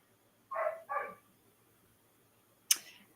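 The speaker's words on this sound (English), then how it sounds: "Sorry for the dogs, guys." Dogs barking indoors: two quick, close barks in succession, a pause, then a sharper, louder single bark, each short and punchy against near silence.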